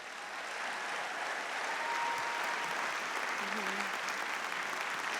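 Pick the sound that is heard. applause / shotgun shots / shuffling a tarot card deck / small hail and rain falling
applause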